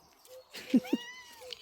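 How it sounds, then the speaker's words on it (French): A cat meows softly nearby, a short, rising and falling cry with a couple of brief chirpy peaks, heard alone in a quiet outdoor setting. "Je vous présente Pacha le chat. C'est le voisin"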